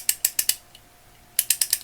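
A Walden 4050-A vintage 3/8-inch drive ratchet clicks in two quick bursts of sharp, close pawl clicks separated by a short pause, alone and fairly loud.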